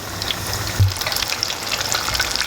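Fish frying in hot oil for fish and chips, a steady, close crackling sizzle with a brief bump partway through and no voices.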